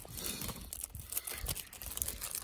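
Crinkly foil wrapping around Italian sausage and mozzarella, cooked on a snowmobile's exhaust header pipe, is pulled and crumpled nearby, a quiet run of rustles and crackles with no talking.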